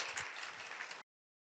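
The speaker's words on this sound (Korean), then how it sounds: "프레젠테이션 한번 받으시고 우리 박수로 우리 오인주 선생님을 모시겠습니다." An audience at a school teachers' research presentation claps together in a dense burst of applause lasting about a second, then stops abruptly into silence.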